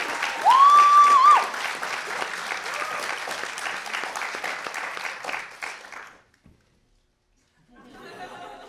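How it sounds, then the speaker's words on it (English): Audience at a student play gives a final round of clapping with a few chuckles, a tone or whistle briefly sounding early, then the applause fades out into silence before faint murmuring returns. "One final round of applause for Linwood King and Doug Dowler, please."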